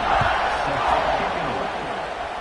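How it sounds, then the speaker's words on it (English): A football stadium crowd at a college game between Alabama and Washington buzzes after a score, a broad, steady wash of many voices and murmured cheering that fills the space evenly without sharp peaks. "this crowd is buzzing after that last score"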